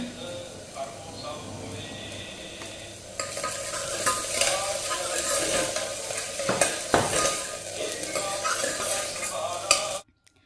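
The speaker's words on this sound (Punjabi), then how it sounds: "ਸਬਜ਼ੀ ਨੂੰ ਮੈਂ ਤੜਕਾ ਲਗਾਤਾ ਸਬਜ਼ੀ ਬਣ ਰਹੀ ਹੈ" Tempering for a home vegetable curry sizzling in a pan, a quieter hiss that swells into a louder, steady crackling fry with occasional utensil knocks, then cuts off abruptly.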